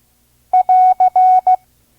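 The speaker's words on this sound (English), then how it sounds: "the end of message symbol" A steady Morse code tone sends the end-of-message prosign AR as five clean beeps in a short-long-short-long-short pattern, loud and close with silence before and after, at a slow five-words-per-minute training pace.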